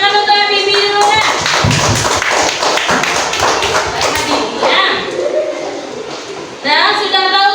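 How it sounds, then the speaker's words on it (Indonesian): Students in a classroom clap for a classmate, a dense burst of applause with thumps and taps, bracketed by a voice speaking at the start and end. "Tepuk tangan untuk Bibi dulu ya"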